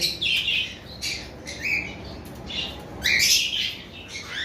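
Green Fischer's lovebird paired with a dilute lovebird, giving repeated sharp squawks and high chirps in bursts, fairly close, with a steady background hiss.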